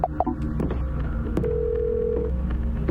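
A phone number is dialed in the video game Silent Hill: a few quick beeping tones at the start, then a sustained electronic tone holding for about a second, over a low background hum.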